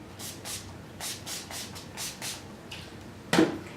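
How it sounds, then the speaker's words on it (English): Several short hissing bursts of makeup primer spray mist in quick succession, close and soft, followed by a brief louder rustle. "Another step that I like to do is to like do a little primer spray"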